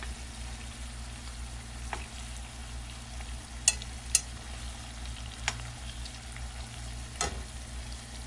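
Shrimp sizzling and frying in a pan for shrimp and grits, a steady crackling hiss with a few sharp clinks as they are flipped over.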